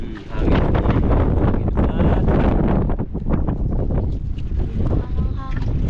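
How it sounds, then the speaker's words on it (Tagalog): Strong wind buffets the microphone on a small fishing boat at sea, making a loud, continuous roar and rumble with gusty surges, while people talk over it. "Hangin."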